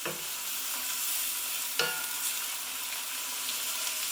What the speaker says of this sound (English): I'm keeping the heat fairly keen for a good couple of minutes to fry those spices off.